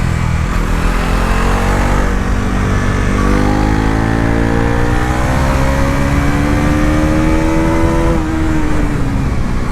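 A Bajaj Pulsar NS 400Z motorcycle accelerates hard on an open road, its engine note climbing steadily through the revs with a loud, close, continuous drone and a brief drop near the end.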